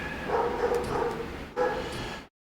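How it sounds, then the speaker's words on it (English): A dog barks in the background indoors, a string of repeated muffled barks, a short pause and then a few more, at a moderate distance with no talk over it. "Sorry if you hear the dog in the background."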